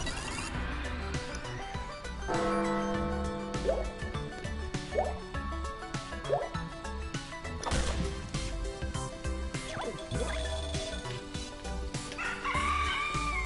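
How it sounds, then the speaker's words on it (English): A cartoonish rooster crows in the LittleBigPlanet 3 video game, a clear cock-a-doodle-doo rising over busy game music and sound effects, loud and close. "it did make the rooster sound"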